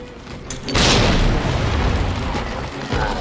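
A grenade detonates against an enemy in the Resident Evil 2 Remake game: a loud, sudden boom hits under a second in, then a heavy rumbling blast tail fills the rest, with a second swell near the end.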